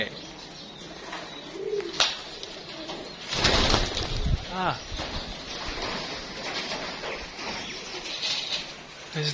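Pigeons coo in soft, rolling bursts nearby, with a brief flutter of wings, while people talk close by over the birds.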